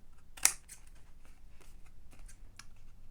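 Scissors cutting paper while making a mini envelope folio: one sharp snip stands out, followed by softer, irregular snipping and paper rustling, close by and fairly quiet, with no talk.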